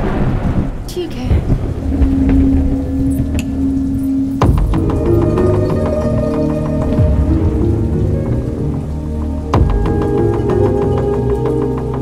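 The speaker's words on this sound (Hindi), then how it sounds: "बहुत तेज बारिश हो रही है" A heavy downpour pounds steadily on surfaces while loud thunderclaps crack and rumble overhead, with sharp bursts standing out several times above the constant rain of a nighttime thunderstorm.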